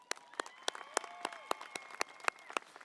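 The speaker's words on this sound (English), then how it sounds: "Let's give Nayeli another round of applause as well." Applause at a university fall commencement ceremony: a sparse, close run of individual hand claps, roughly three or four per second, with faint crowd sound behind and no talk.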